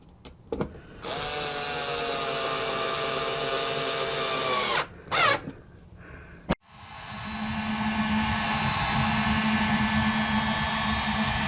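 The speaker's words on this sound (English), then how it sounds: "I'm just going to put screws in it for now" A power drill drives screws while fitting a battery hatch on a Vibe Sea Ghost 130 kayak: a loud, close, sustained motor whine with a brief break and a pitch change, then a second long run. No speech.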